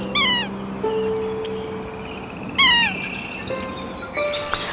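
Yellow-bellied Sapsucker, a barred black-and-white woodpecker with a red cap and throat, gives two loud, nasal, downslurred mewing calls close by, separated by a pause, with fainter bird notes in the background.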